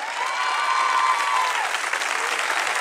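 A crowd at a concert gives loud, dense, continuous applause for a band newly announced under its name, steady throughout with a faint whistle or cheer riding over it.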